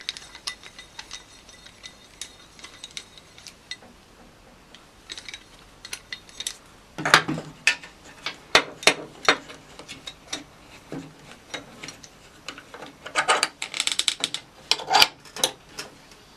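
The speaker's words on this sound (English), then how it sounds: "Get some clamps on it." T-bar sash clamps are tightened, giving sharp metallic clicks and ratcheting ticks that start sparse and grow into dense bursts of close mechanical clatter, with no speech.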